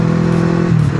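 A 1995 Honda CB500 PC26 motorcycle engine revs under acceleration, a loud close-up drone with a steady pitch that shifts downward near the end, like an upshift.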